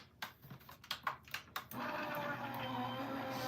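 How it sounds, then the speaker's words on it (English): An Anna Griffin Elite Impress craft machine makes a few clicks and clunks as the card is loaded, then settles into a steady, close mechanical whir and hum. "I'm going to run it through my machine and see what they look like"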